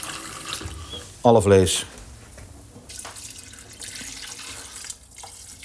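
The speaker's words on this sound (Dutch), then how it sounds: "En ik gooi er wat warm water bij." Warm water is poured into a pot of meat with vinegar and syrup for Limburg-style sour meat stew. A short spoken phrase is followed by a steady, close wash of running liquid.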